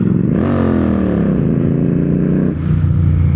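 A Royal Enfield GT 650 motorcycle fitted with an SC Project aftermarket exhaust revs up loudly and close by, the engine note rising and falling through one sustained rev before settling back to a throaty idle, with no talking.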